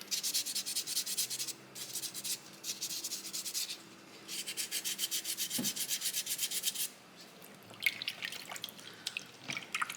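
Sandpaper rubs back and forth over a small soapstone owl carving in quick rhythmic bursts of close, scratchy strokes, pausing briefly between sets.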